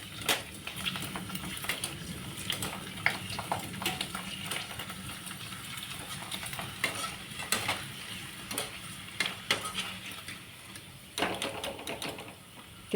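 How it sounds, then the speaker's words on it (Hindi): Papdi crisps frying in a pan of hot oil, a steady close sizzle with crackling bursts and scattered sharp pops throughout. "पापड़ी तल के देखते हो अभी"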